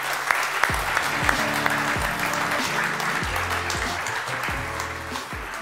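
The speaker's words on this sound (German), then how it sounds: "das ist dein Applaus" An audience at a startup accelerator demo day applauds after a founder's pitch, with dense steady clapping filling the room while a piano or music plays beneath.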